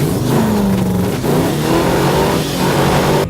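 A custom truck's engine revs hard at a street rod show, loud and close, its pitch climbing, dipping and rising again over a few seconds before cutting off abruptly.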